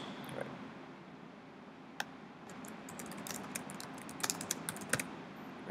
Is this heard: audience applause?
no